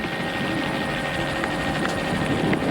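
Helicopter hovering over the Bathurst 1000 race track in 1992, a steady broadband rotor and engine drone held at a constant level throughout, with no voices.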